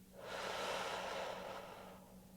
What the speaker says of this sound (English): Inhale again. And exhale again.